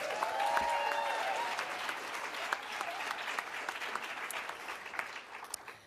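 An audience at the 2024 CCBC Book Awards ceremony gives a round of applause. It starts full, with a faint cheer at the start, and then slowly thins and fades away.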